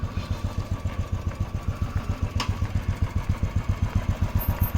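A Royal Enfield Bullet motorcycle engine thumps steadily at idle close by, its loud, even low-pitched beat running throughout with a brief sharp click midway.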